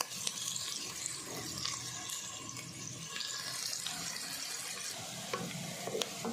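Onions frying in a pan for a chicken pota dish, giving a steady close sizzle with soft stirring scrapes throughout, faint and continuous, with no talking.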